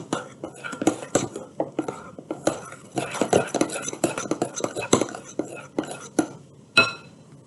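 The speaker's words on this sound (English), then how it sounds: "be gentle when you stir, so hopefully your shaving cream will stay fluffy" A utensil stirs a shaving cream slime mixture with food dye in a bowl, producing irregular clinks and soft scraping taps at close range, with faint whispery sounds between strokes.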